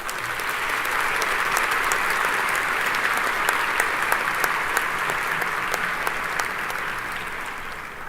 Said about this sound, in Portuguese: a ela eu também peço uma especial salva de palmas.